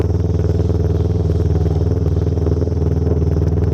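Motorcycle engine idling along at low throttle around 12 km/h, a steady close-up low rumbling pulse that stays constant throughout.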